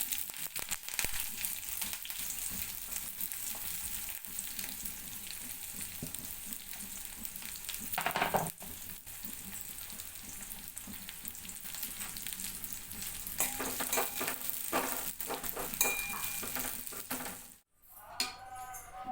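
Onions and washed curry leaves frying in a pan for doda kaya pachadi, a steady close sizzle with scraping stirs and a few clinks throughout, briefly dipping near the end.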